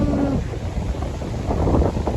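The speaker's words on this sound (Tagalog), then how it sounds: "Ang lakas ng hangin." Strong wind blows across the seashore at Stord, Norway, a loud continuous rush with heavy microphone buffeting and a faint wash of ocean beneath, no talking.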